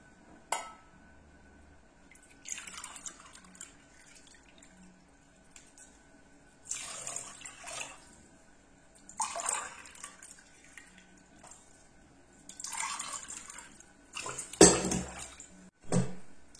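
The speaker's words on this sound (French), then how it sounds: "Je vais ajouter 4 grands verres d'eau." Four large glasses of water are poured one after another into a pot in a kitchen. Each pour is a short, close splashing gush separated by quiet pauses, and a glassy clink is heard near the end.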